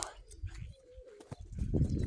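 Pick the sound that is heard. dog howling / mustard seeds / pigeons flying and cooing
pigeons flying and cooing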